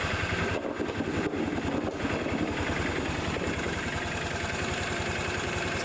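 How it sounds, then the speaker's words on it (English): Kawasaki FE40 engine on a Bobcat Pioneer utility vehicle idles steadily close by, a loud, even low-pitched chugging that continues without pause. "I finally got the idle tuned in, and it had nothing to do with the carburetor"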